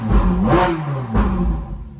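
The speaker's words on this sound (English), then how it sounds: "This thing sounds awesome. Just keep in mind, this is a stock exhaust" A Ferrari 458 Spider with its stock exhaust revs inside a shop garage, two loud rising engine swells about half a second apart, heard close and alone without talk.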